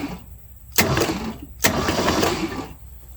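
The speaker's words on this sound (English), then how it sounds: "I'm going to turn it over just a couple of times." A 1971 Ford F100 with an FE 360 engine, abandoned for years, is cranked over twice by the starter in two strong, close bursts of rhythmic churning, with quiet gaps on either side.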